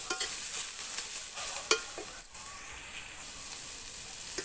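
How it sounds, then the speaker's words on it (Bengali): Garlic and coriander leaves fry lightly in a pan, a steady soft sizzle broken by a few spatula scrapes and taps, no talking. "এটা একটু ভাজা ভাজা করব"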